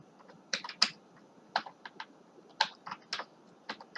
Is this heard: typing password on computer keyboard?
yes